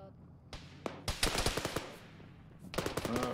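Gunfire in the military shooter game Arma erupts in bursts of machine-gun and rifle shots, some sharp and close, others scattered, with a brief pause before another rapid burst, and faint voices underneath.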